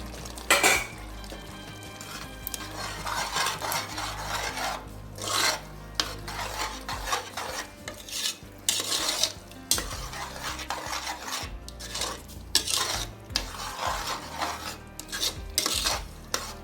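A metal spoon stirs and scrapes chana pulao in a pot, with repeated rasping strokes and clinks of metal on metal that come and go steadily at close range.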